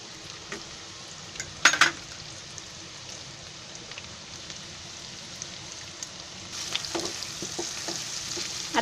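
Ginger garlic paste fries in a pan while chicken 65 is cooked at home, a soft steady sizzle with occasional stirring clatter, growing louder and brighter near the end.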